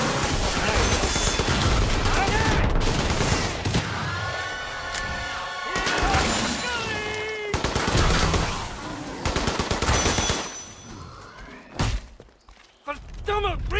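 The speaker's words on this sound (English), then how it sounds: "Can I shoot or what?" Dense automatic gunfire and explosions in the video game Killing Floor 2, played solo as a Commando in Hell on Earth difficulty on PS4. The rattling bursts are loud and nearly continuous, with game voices and effects mixed in.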